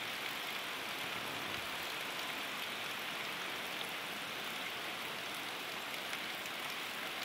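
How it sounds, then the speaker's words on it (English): Heavy rain from Hurricane Sandy pours down at night in Dover, Delaware, as a dense, constant roaring hiss that never lets up, with a low engine-like rumble faintly beneath it and no voices. "The rain lightened up a little bit and then got heavy and it lightened up again."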